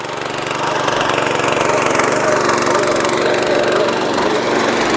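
A power weeder fitted with two shock absorbers tills farm soil, its small engine running loud and steady with a dense, continuous rumble throughout.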